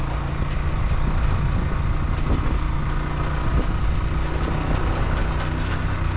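Vehicle engine laboring up a rainy mountain road, a steady low rumbling drone with muffled bumps and rattles, close and continuous without talk.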